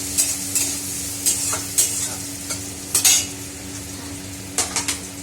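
Flattened rice (chire) is stir-fried with onion in a pan, a low steady sizzle under repeated metallic scrapes and clacks of a spatula in a brisk irregular rhythm.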